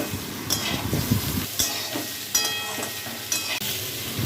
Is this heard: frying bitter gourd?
yes